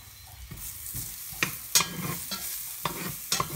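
Garlic sizzles in a pot with a soft frying hiss while a utensil scrapes and stirs it, giving several sharp clicks and knocks at uneven intervals.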